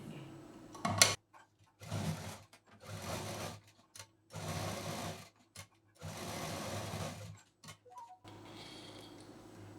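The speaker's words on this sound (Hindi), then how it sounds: "यहाँ से डबल मशीन चलाते हुए यहाँ से हम यहाँ डबल मशीन पॉकेट रेडी कर लेंगे" Sewing machine running in several short bursts of steady stitching with brief pauses between, double-stitching a folded pocket on a cloth shopping bag; close and moderately loud, with no talking.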